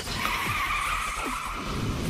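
Yusei's motorcycle racing in a Yu-Gi-Oh! 5D's trailer, with a steady engine whine and tires skidding and squealing, and a couple of short swooping sweeps over a continuous roar.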